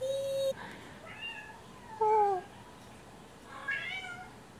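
A cat meows several times in a television program about cats, with short, clear, rising and falling calls spaced over a few seconds against a quiet background.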